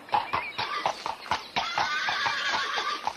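A horse whinnies while hooves clop in a steady rhythm close by, the neigh rising over the repeated hoofbeats, in a fairy-tale audio drama.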